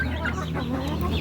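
Free-range chickens cluck in short, close, irregular bursts over a steady low background hum.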